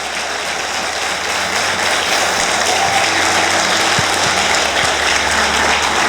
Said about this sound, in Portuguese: Pode aplaudir Jesus que os milagres continuam acontecendo